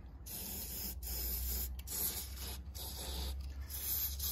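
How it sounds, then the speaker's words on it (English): An aerosol can of rust treatment hisses in several short and long bursts with brief pauses between them, close and steady, sprayed into a Jaguar XJ6 body cavity. "Give it a good spray."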